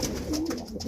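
Young grizzle and blue bar white flight pigeons cooing while fighting, a steady low throaty coo rolling on close by with no talk.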